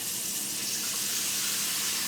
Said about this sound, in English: I'm just going to put it on the stove and fill it with water and boil them.